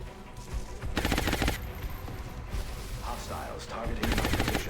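Bursts of gunfire from an XCOM: Enemy Unknown firefight, two dense rapid volleys a few seconds apart, loud and close, over a steady battle din with a voice briefly heard between them.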